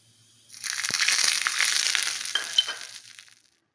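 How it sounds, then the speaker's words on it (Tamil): Mustard seeds tempering in hot oil in a pan, a close burst of crackling, popping sizzle that starts suddenly, holds for about three seconds and then dies away. "இதில் கொஞ்சமாக கடுகு மட்டும் தாளிச்சு"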